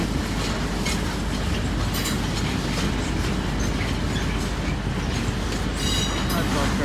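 A train rumbles and clatters steadily through a British railway station, with wheel noise and faint high metallic squeals over a dense, continuous roar.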